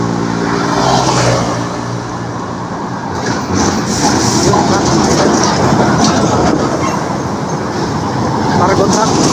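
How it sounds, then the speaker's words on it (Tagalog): Cargo truck from Manila passing on a storm-damaged, potholed road toward the Bicol region, a loud, continuous roar and rumble of engine and tires close by, rising and fading, with a voice speaking over it. "Cargo truck."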